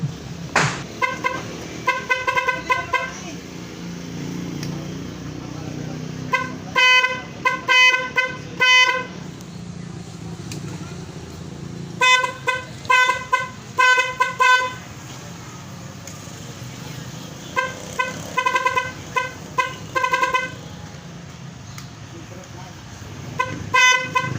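A loud aftermarket horn on a RUSI 150 motorcycle honks again and again in short bursts and quick rapid clusters, standing out against steady engine noise. No one speaks.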